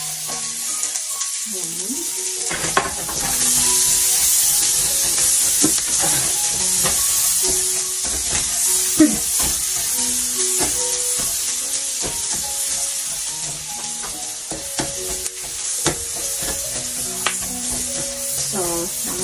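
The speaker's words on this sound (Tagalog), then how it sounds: "igisa na natin ang ating bawang, sibuyas, at saka ang ating luya" Garlic, onion and ginger sauté in a hot pan with a steady loud sizzle and frying hiss, stirring clatter breaking through now and then, and a brief voice near the start.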